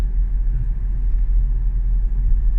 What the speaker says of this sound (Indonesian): Bunyi ban ya.